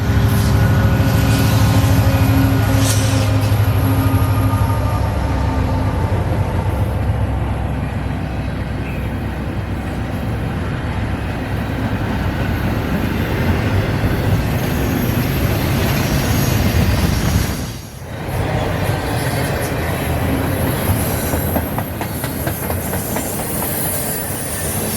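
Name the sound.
Norfolk Southern southbound intermodal freight train passing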